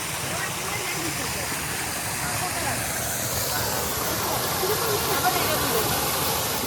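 A waterfall at a Tambal agritourism centre where children can bathe beneath it, giving a constant loud broadband rush of falling, splashing water, steady throughout with no breaks.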